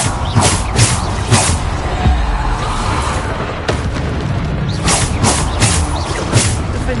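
Spells cast in the video game Hogwarts Legacy, including Depulso, land as a run of deep, booming thuds and bursts. The hits are loud and close, spaced irregularly across the stretch with a dense rumble filling the gaps.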